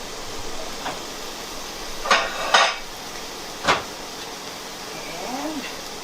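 A bowl clatters against a counter in a home kitchen while potato pancakes fry, with a few sharp knocks and a clink standing out over low background noise.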